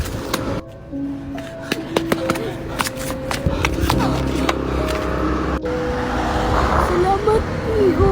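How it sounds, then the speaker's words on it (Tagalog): A car approaching on a road, its steady engine and tyre rumble building under a busy street soundscape with clicks and rattles throughout. "May paparating na sasakyan."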